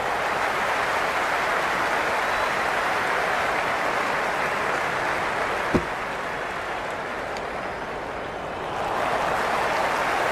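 Crowd noise fills a cricket stadium during a T20 match between Sri Lanka and England, a dense, steady roar like rain that holds throughout, with one brief sharp knock midway.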